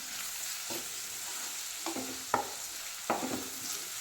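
Garlic is added to sautéed onions frying in a pan, giving a soft, constant sizzle broken by a few brief scrapes and taps of a spatula.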